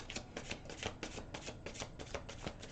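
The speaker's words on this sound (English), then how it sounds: "if any of these cards fall out while I'm shuffling them, they go back in the deck" Tarot cards shuffled by hand, a quick run of crisp riffling flutters repeating in a steady rhythm, close up and quiet with no voices.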